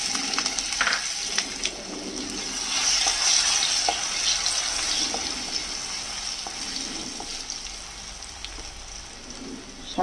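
Garlic hits hot oil already seasoned with five-spice seeds and two dried red chillies for a radish-greens vegetable dish, giving a steady, bright sizzle with occasional stirring clicks close by.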